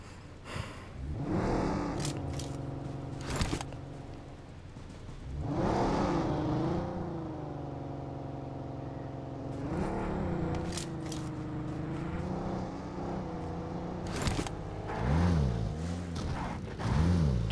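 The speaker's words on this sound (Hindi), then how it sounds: "यहाँ पर मैं और मेरा साथी गाड़ी लेकर निकलते हैं" A car engine in the video game PUBG Mobile drones steadily, its pitch rising and falling as it revs and shifts, with a few sharp clicks and knocks over the top.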